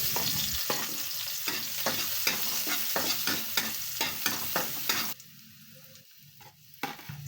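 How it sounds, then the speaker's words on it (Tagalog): Garlic sizzles in hot oil in a pan while a spoon stirs it in a quick, regular rhythm of scraping strokes. The frying then settles into a quieter, softer crackle. "Ginisa ko na yung bawang."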